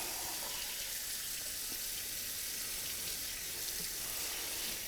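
A winter flounder gets a quick rinse under running water, making a steady, even hiss of spraying and splashing water that holds unbroken for several seconds with no talking.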